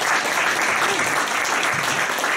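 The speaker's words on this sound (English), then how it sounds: "let's give the Lord a clap offering" A church congregation gives a clap offering, with dense, sustained applause from many hands filling the room, loud and even throughout with a faint voice underneath.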